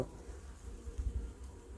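A dense, steady buzzing of many honeybees in a hive fills the air, continuous and close, with no voices.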